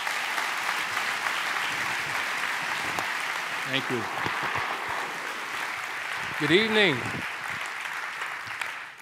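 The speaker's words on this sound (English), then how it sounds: "Can we please give a big round of applause" An audience applauds a speaker at an evening event about forgiveness after an affair, with sustained, moderately loud clapping throughout as a voice briefly thanks the crowd and greets them over the applause.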